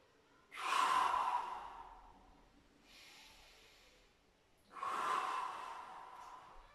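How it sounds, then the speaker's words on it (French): Two deep breaths during a stretching session, each a long, loud exhale followed by a quieter inhale, spaced a few seconds apart with no talking. "Encore deux dernières respirations."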